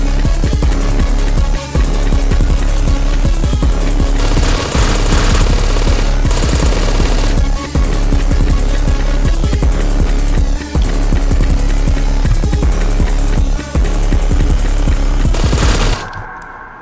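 Weapon fire from the video game Withdrawal comes from a gun with unlimited ammo, heard as loud, dense, continuous automatic shooting that runs almost without pause before cutting off abruptly at the end.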